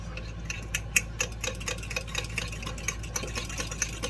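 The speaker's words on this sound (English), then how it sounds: "And then mix this together." A fork whisks truffle aioli in a bowl, making quick, steady clicking taps against the sides over a low, constant background hum.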